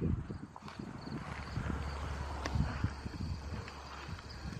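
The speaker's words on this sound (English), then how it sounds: "all the horses came charging at us" A group of horses charging toward people in a pasture, heavy hoofbeats thudding irregularly and fairly close over rustling ground, with faint outdoor background noise.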